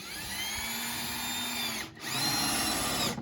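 A power drill drives a screw into a deck board of a log cabin's side deck at dusk, whining steadily for nearly two seconds, dipping briefly, then spinning up again with a strained, rising pitch.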